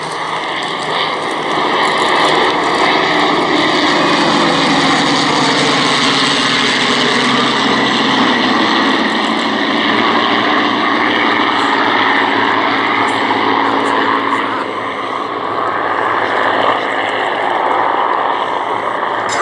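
Loud, continuous roar of WWII propeller aircraft, including Mustangs, a P-40F, Wildcat, Catalina, C-47 and Beech 18, flying past at the Duxford VE Day air show, a steady drone that swells and shifts as they pass.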